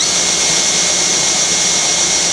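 A Genmitsu ProverXL 4030 CNC router spindle runs at a steady, loud, high-pitched whine with a constant airy hiss, close by and unbroken, with no talking.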